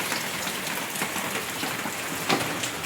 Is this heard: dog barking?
no